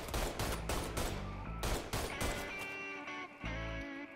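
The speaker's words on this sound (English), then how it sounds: "Who is shooting at me?" Rapid bursts of gunfire from a shootout in the video game Mafia 3, with loud, dense volleys of overlapping shots and a few brief gaps between the bursts.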